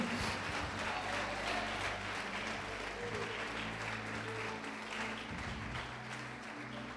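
A church congregation at a Brazilian worship service applauds, a dense, continuous wash of many hands clapping that holds steady, with faint voices mixed in.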